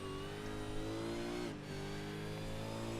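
A V8 race car engine at Homestead Miami roars loud and close, its pitch climbing, dipping briefly at a quick gear change, then pulling hard again through a fast left-hand corner.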